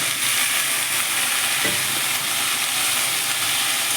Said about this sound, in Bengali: পেঁয়াজ রসুনের সাথে কিছুক্ষণ চিংড়ি মাছটাকে ভেজে নিলাম। এবার আমি কচুরলতিটা দিয়ে দেবো।